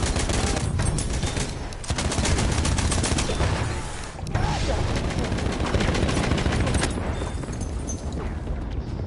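Dense, loud gunfire in a multiplayer shooter game, sustained bursts and volleys running almost without pause, with explosive booms mixed in.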